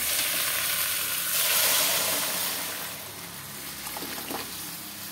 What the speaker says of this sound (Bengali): ডালটা এবার আমি ঢেলে দেবো।